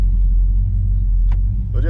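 A 1967 Plymouth Fury with a 440 V8 pulls away gently, its deep engine rumble steady and close inside the car, with a voice speaking briefly over it near the end.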